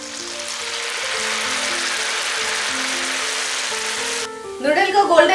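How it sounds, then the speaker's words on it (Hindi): Noodles deep-frying in hot oil give a loud, steady sizzle for about four seconds, then a voice speaks as the frying continues quietly underneath. "अब हम इसे फ्राई कर लेंगे।"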